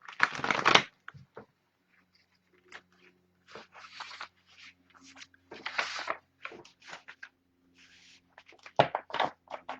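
A deck of inquiry cards being shuffled at close range in a quiet room, with irregular bursts of riffling and soft card slaps separated by short pauses.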